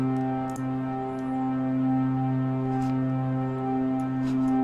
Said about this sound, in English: With that, I put on a chorus